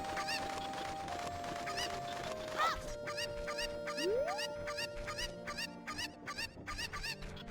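Cucco chickens in The Legend of Zelda: Ocarina of Time squawk and cluck in quick repeated bursts, clear and close, alongside tonal game sound effects and background music.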